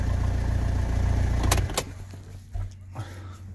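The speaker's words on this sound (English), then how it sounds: "I needed to prove we could crank." A 2015 Peugeot Boxer van with an earthing fault turns over in a steady low drone of starter cranking, broken by a couple of sharp clicks before the engine note drops away into a quieter rumble.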